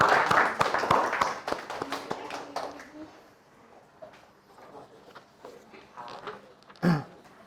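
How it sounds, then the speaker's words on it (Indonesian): Audience applause after a classroom presentation: a burst of clapping that fades into scattered claps, with a single louder clap near the end. "Berikan aplaus ya."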